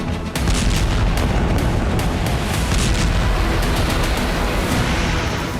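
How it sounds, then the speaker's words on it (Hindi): A continuous loud roaring barrage of Russian missile explosions in Ukraine, dense and rumbling without pause, heavy and distorted. "सूरज उगने से पहले ही ये बम बरसे और जेट इंजन जैसी आवाज के साथ जोरदार धमाके"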